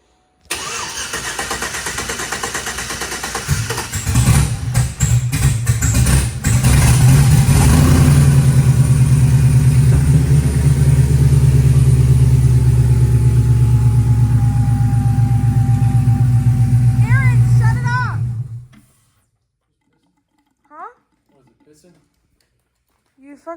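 A supercharged Cadillac CTS-V engine cranks and catches on first startup after modification, then settles into a loud, steady rumbling idle with a whine before cutting off abruptly, followed by brief faint noises.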